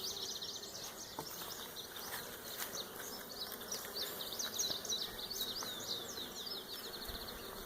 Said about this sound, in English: I can tell these bees are not wanting to play this early in the morning.